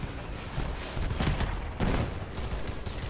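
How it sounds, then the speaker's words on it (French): Rapid bursts of gunfire from an online video game shooter, fairly faint, with dense crackling volleys that swell and fade over a few seconds. "c'est qui me tire dessus?"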